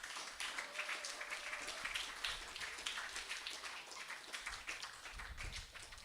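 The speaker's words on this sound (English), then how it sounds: "Let us give her a round of applause." An audience at an afternoon arts celebration claps for an honored guest, steady rippling applause from a sizeable crowd, fairly distant, lasting throughout with faint voices underneath.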